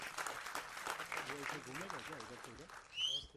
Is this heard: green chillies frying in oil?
no